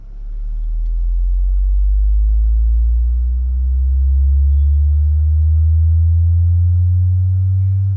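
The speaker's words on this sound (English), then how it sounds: "we'll play two frequency sweeps, allowing you to clearly hear the benefit of waveforming" Low-frequency sweep test tone played through a home theater system, a loud, smooth sine tone gliding steadily upward through the deep bass, alone and sustained.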